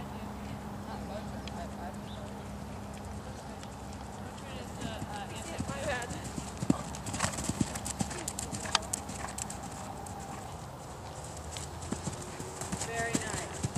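A horse cantering in a riding arena, hooves clip-clopping in a steady rhythmic beat that grows louder midway, with people talking over the footfalls.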